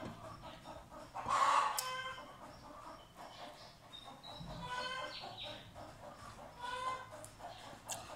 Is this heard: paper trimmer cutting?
no